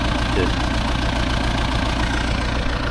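A tractor engine runs with a steady, loud mechanical drone and low rumble while cultivating a damp field for soybean sowing, continuous and close throughout.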